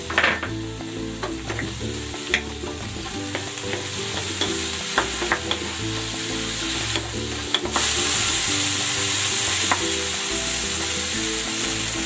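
Onion and tomato sizzle steadily in a frying pan while a utensil stirs and scrapes in repeated clicks, and the hiss swells louder toward the end.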